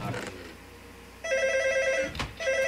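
A telephone rings in a Minecraft co-op survival session, a steady electronic ring tone sounding in two bursts after a brief stretch of speech, fairly loud and clear.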